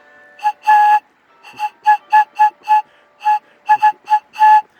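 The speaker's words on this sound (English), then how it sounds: "so you have a little whistle" A shrill, reedy homemade plant-stalk whistle blown in a series of short bursts, about a dozen toots in an uneven rhythm, close and loud with silence between.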